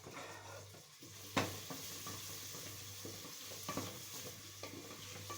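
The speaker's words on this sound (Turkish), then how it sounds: "Köfte kızartacağım." Turkish köfte meatballs sizzle steadily in a hot pan, with occasional scrapes and light clinks of stirring over the quiet, continuous frying.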